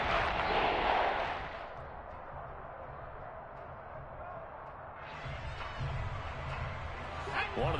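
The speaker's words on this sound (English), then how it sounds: "The crowd getting into it as we come up on a big third down" A football stadium crowd roars loudly ahead of a big third down, a broad wash of cheering that swells, dips under an announcer's talk, then rises again.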